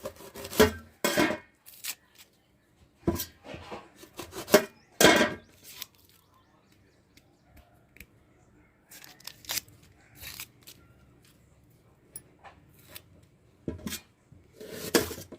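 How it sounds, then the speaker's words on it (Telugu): Knife cutting tomatoes and onion on a kitchen board, crisp sharp chopping strikes in irregular clusters, close and fairly loud, with quiet pauses between bursts. "ఇంక ఉల్లిపాయ కూడా కట్ చేసుకుందాం"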